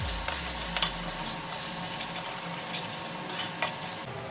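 Ground spices (turmeric, coriander powder and red chili powder) sizzling and being stirred in a pan, with soft scraping clicks and steady frying hiss, no talking.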